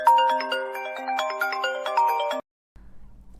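A mobile phone ringtone plays a bright melodic tune for an incoming call, loud and close, ringing for a couple of seconds before cutting off abruptly into near silence.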